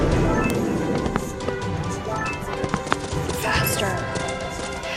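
Galloping horse hooves from a horse riding video game play in a steady clip-clop rhythm, moderately loud, beneath a voice talking over the action.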